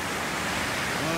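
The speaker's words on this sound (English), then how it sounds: "And look, we got waves." Ocean surf breaking on a beach at about six in the morning, a steady broadband wash of waves with no distinct individual crashes over the brief moment.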